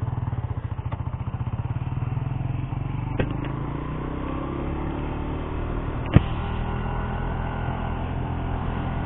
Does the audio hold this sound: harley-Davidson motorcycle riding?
yes